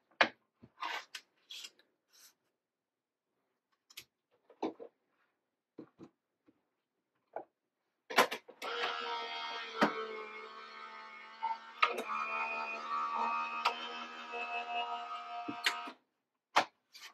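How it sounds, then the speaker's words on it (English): Paper runs through a crafting die cut machine: a quiet, even mechanical grinding hum about eight seconds long, close by, preceded and followed by scattered soft taps and paper handling clicks, with no talking. "And then I'll run this through my die cut machine."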